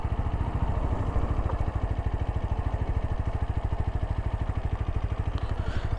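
A TVS Apache 160 4V motorcycle rolls in first gear without throttle, its engine putting out a steady, rapid low thumping pulse that stays close and even throughout with no talk.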